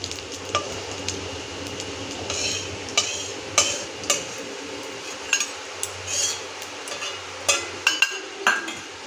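Cumin seeds fry in hot oil in a pan with a soft, steady sizzle, broken by repeated light clinks and scrapes of a stirring utensil against the pan.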